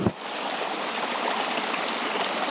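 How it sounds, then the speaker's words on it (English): A small stream flowing along a woodland trail, its steady rushing and trickling water close by and continuous, with no talk. "It might be kind of hard to hear over the water, over the sound of the water. I'm sitting on top of a stream right now."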